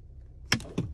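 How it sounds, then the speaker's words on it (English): The electronic parking brake of a 2021 Honda Accord engages with two short, sharp mechanical clicks about a quarter second apart, close and fairly quiet over a low hum from the running car. "And we're going to engage the parking brake."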